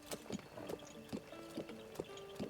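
Horse hooves trotting in The Legend of Zelda: Breath of the Wild, a steady clip-clop rhythm of close, distinct hoof strikes over a faint background bed.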